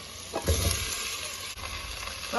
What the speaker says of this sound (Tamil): தக்காளி ஓரளவுக்கு வதங்கிடுச்சு இந்த ஸ்டேஜில் வந்து நம்ம பூசணிக்காய் சேர்த்துக்குவோம்